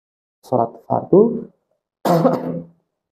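A man clears his throat and gives a few short, voiced coughs in two close bursts, then a pause and one longer throaty rasp, near and fairly loud, in the middle of a short Ramadan sermon on the obligatory prayers.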